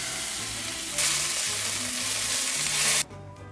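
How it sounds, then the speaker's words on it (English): Applewood smoked thick cut bacon frying in a preheated pan: a dense, steady close-up sizzle that swells louder partway through, then cuts off abruptly near the end. "The pan is preheated, so I'm going to go ahead and throw them in now."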